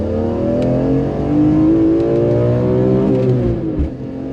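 A BMW E46 M3's six-cylinder engine revs hard toward 8000 RPM, its loud, close exhaust note climbing and holding in a sustained howl before easing off near the end, with no talking over it.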